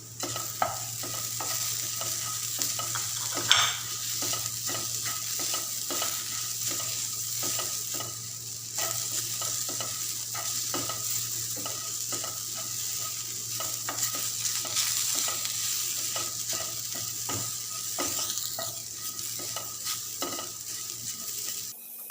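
Chinese potato stir-frying in a pan with chilli powder gives a steady close sizzle throughout, broken by repeated scraping and stirring clicks of a spoon against the pan, with no voices.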